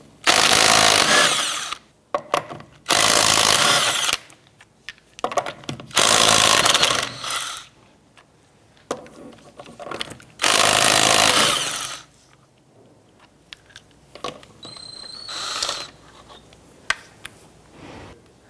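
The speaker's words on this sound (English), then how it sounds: "Using a 19mm socket, let's go ahead and remove our lug nuts." An impact wrench with a 19mm socket removes lug nuts from the rear wheel of a 2006-2013 Chevrolet Impala, several loud, close bursts of rattling hammering, each a second or two long, separated by quiet pauses and small clicks.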